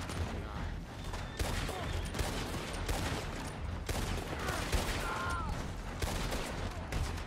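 Dense gunfire crackles in Red Dead Redemption 2 Online as rapid, overlapping shots fire in steady volleys for several seconds, loud and close throughout.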